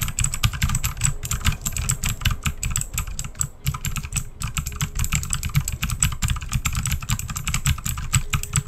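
A computer keyboard is typed on in a continuous rapid patter, picked up by a Blue Yeti condenser microphone in bidirectional mode, with faint music in the background and no voices.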